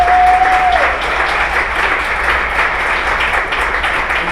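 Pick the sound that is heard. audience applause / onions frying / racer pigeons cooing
audience applause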